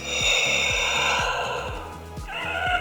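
Hasbro Black Series Darth Vader helmet sound effect of mechanical respirator breathing, with a steady hiss and a rhythmic low pulsing cycle throughout, loud and close with no talking.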